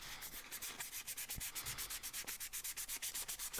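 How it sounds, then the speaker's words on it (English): Sandpaper rubbed by hand over wood with pin nails set in it, a quick run of rapid, steady back-and-forth scratchy strokes, close and alone. "hit it with a piece of sandpaper quick."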